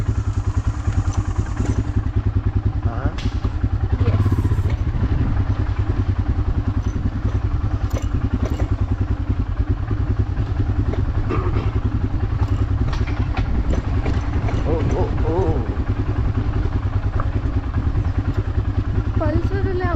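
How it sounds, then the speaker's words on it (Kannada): A Hero Honda Splendor motorcycle on a forest track thuds with a continuous low engine putter and rattling clatter throughout, close and loud, with brief voices now and then. "ಬೈಕಲ್ಲಿ ಎಷ್ಟು ಚೆನ್ನಾಗಿ ಹೋಗ್ಬಿಟ್ರು. ಪಲ್ಸರ್ ಅಲ್ಲ, ಹೀರೋ ಹೊಂಡ ತಾನೆ."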